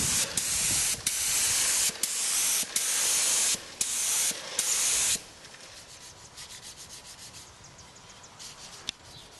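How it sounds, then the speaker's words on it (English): A spray gun applies lacquer to a wood-turned bowl with a steady, loud hissing blast, pulsed in short bursts for several seconds before dropping to a quieter, softer spray. "when I spray into the bowl, I don't have the lacquer bouncing back into my face"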